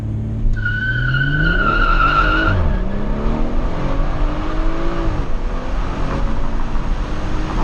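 A Stage 1 BMW 440i launches hard, its tires squealing in a sharp high whine at the start while the engine roars and climbs, dips at a gear change, then keeps pulling loudly.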